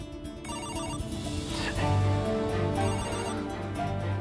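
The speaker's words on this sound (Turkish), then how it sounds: "Telefon çalıyor." A telephone rings indoors in a dramatic scene, a repeated electronic ring tone pattern sounding steadily and fairly faint under background music, no talking.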